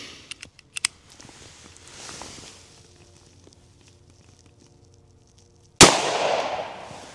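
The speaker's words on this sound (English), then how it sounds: "Let's shoot the next one into just the gel." A 9mm pistol, the HK CC9, fires a standard-pressure 68 grain Platinum Edition round into bare ballistic gel. Quiet handling clicks and shuffling lead up to one sharp, loud shot near the end, followed by a ringing decay.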